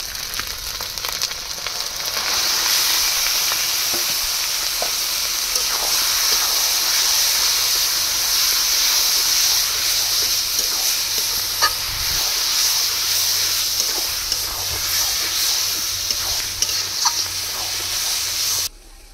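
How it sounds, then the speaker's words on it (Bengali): Marinated mutton slow-frying in a pan for a Pahela Baishakh meal, giving a steady, loud sizzle and hiss that runs unbroken through the whole stretch, with faint stirring scrapes now and then and no talking. "এবার ম্যারিনেট করা মাংসগুলো দিয়ে মাংসগুলো অনেকক্ষণ ধরে কষিয়ে নেব।"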